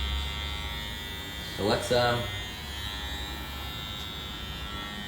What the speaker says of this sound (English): we can also refine a bob with a clipper